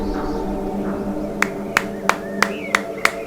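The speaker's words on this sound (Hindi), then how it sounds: "ताली बजाओ भाई लोग" Six sharp hand claps, evenly spaced and slow, ring out one by one over a steady low droning hum in a dramatic scene.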